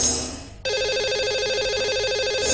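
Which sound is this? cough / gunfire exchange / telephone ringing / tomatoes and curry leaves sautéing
telephone ringing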